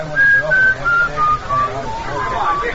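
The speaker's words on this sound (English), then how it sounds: "I'd been hearing that whistling right along" A person whistles the tune of Yankee Doodle in short, bright phrases, each note held briefly with small pauses between, close and fairly loud over a faint background hum from an old-time radio drama.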